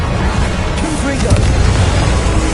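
Repeated Confringo fire-spell blasts in Hogwarts Legacy: heavy booming explosions over a thick wash of combat noise, steady and loud throughout, with a voice talking over it.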